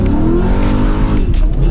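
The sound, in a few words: Mercedes V8 AMG car driving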